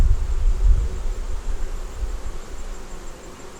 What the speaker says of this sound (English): We got some bees over here on your right hand side festooning from the frame